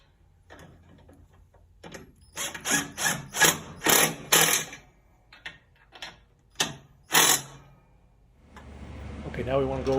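Ratcheting and clanking while bolts are tightened on a John Deere mower with a 7-Iron deck, a run of loud close mechanical bursts in quick succession followed by a few more, with a voice speaking faintly near the end.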